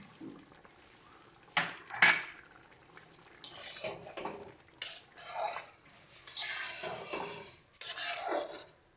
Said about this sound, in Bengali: এবার আগে থেকে যে তেঁতুলের পাল্পটা রেডি করে রেখেছিলাম সেটা দিয়ে দিচ্ছি